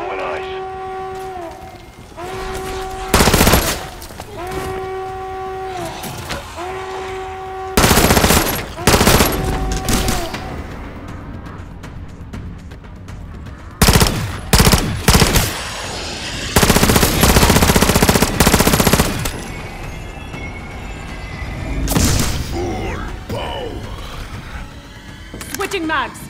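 Gunfire in the zombies mode of Call of Duty Modern Warfare III, several loud bursts of automatic fire between stretches of game music, with radio voices talking over parts of it.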